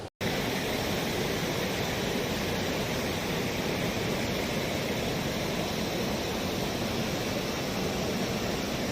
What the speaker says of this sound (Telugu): నెక్స్ట్ వచ్చేసి మనం వాటర్ ఫాల్కి వెళ్ళిపోదాం.